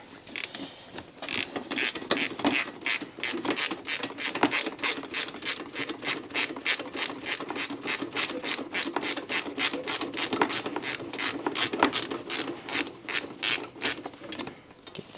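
Steady, rapid clicking of a ratchet wrench turning a 12mm bolt on the clutch cover of a Yamaha Warrior 350 ATV, dozens of even metallic pawl clicks repeating close up for about fifteen seconds without pause.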